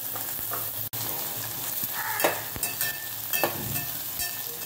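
Onion sautéing in a pan with green chili and curry leaves for a bhokar bhaaji, a steady close sizzle with a few stirring scrapes and clicks, no voices.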